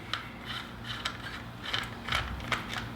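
A ratcheting wrench cracks loose 8mm bolts on a WR250R motorcycle, giving a series of short, close clicking ratchet bursts over a quiet background hum.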